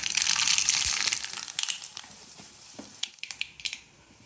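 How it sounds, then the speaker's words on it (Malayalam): Mustard seeds hit hot coconut oil in a pan with a loud burst of hissing sizzle that fades, followed by sharp scattered pops and crackles as the seeds burst, close and without talk. "വെളിച്ചെണ്ണ ഒഴിച്ചു കൊടുത്തിട്ടുണ്ട് രണ്ട് കടുക് ഇട്ട് കൊടുക്കാം"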